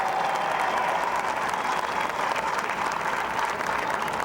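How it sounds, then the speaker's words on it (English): Dense, steady applause from a large stadium crowd at a Chicago Cubs rally celebrating the 2007 NL Central championship, a continuous wash of clapping with no clear breaks and no voices standing out. "That deserves a round of applause."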